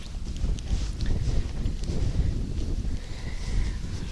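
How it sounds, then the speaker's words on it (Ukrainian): Strong wind by a small river in November buffets the microphone with a steady low roar and gusting rumble, no voices present. "А, Вітер, вітер сильний."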